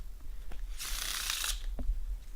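Playing cards riffle-shuffled during a card trick, a single continuous burst of rapid fluttering clicks lasting under a second, close and fairly loud, with quiet handling taps around it.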